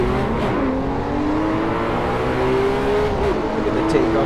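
A Porsche 911 R engine in Assetto Corsa VR pulls hard off the race start at the Red Bull Ring, its loud, close tone climbing steadily in pitch over a dense bed of surrounding car noise.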